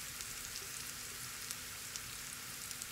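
Shredded cabbage and carrots fry in an oiled pan as filling for Bangladeshi fish pitha, giving a steady, soft sizzle with faint crackling pops and no voices.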